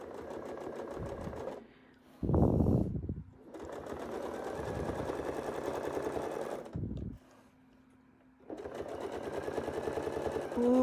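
Sewing machine stitching a few tacking stitches in short runs, its rapid mechanical whirring and clatter coming in several bursts with brief pauses and handling noises in between.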